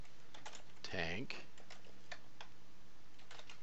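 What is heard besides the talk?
typing on a computer keyboard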